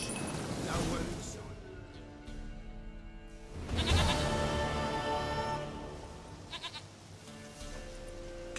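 A goat in The Witcher 3: Wild Hunt bleats in several drawn-out, wavering cries, close and clear, with short pauses between calls.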